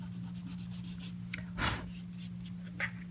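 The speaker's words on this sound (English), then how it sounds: "Just take your finger and just rub that off, and we can see our white areas underneath." A fingertip rubbing dried masking fluid off a watercolor painting of snowy trees, with short soft scratchy strokes repeating in an uneven rhythm close up over a steady low hum.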